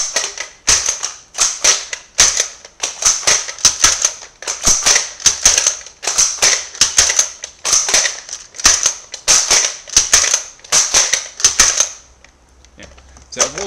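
Nerf Maverick blasters fire foam darts in a long series of sharp, close pops and clicks, roughly evenly spaced with brief pauses, ending in near quiet.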